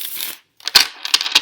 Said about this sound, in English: So let me give the cards a little shuffle.